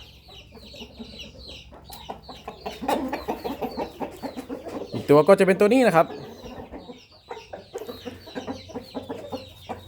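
A young Burmese fighting rooster clucks and calls close by, with a louder burst of crowing-like squawks in the middle, while someone talks over it throughout.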